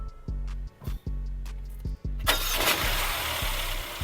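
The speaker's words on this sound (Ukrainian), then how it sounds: "Коли ви його заводите, особливо на холодну, чується такий звук дрібіжання металу." An Infiniti QX30 2.0T engine cranks with several rhythmic starter pulses, then catches and runs, a rough metallic rattle, typical on cold starts, riding over the steady idle.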